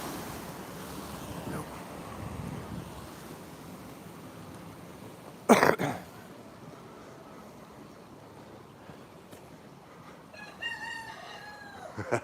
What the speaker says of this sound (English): Cockerel at it.